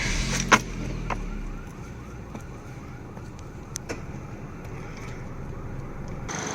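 A used car's engine idles after being started, a steady low rumble with a faint whine, joined by a few sharp knocks and clicks nearby.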